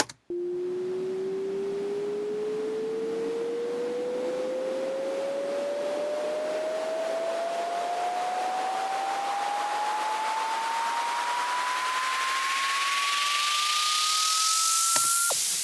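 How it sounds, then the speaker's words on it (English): A steady wash of noise with a tone sweeping slowly upward, brightening and building in intensity over about fifteen seconds before cutting off abruptly. "how to create a rise up white noise"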